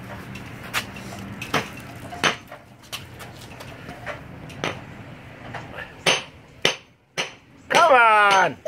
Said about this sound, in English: Go ahead and smash the Whoppers.